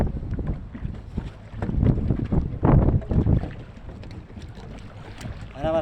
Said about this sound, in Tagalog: Malakas yung hangin ngayon